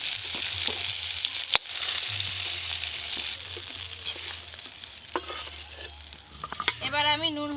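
Prawns frying in hot oil, a loud steady sizzle and spatter with a sharp clatter early on, a brief voice near the end over the frying.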